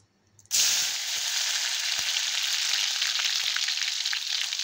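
A paste of onion, garlic, coconut and ginger hits hot oil in a kadhai after a brief quiet moment, then fries with a loud, continuous sizzle that holds steady, with faint stirring clicks.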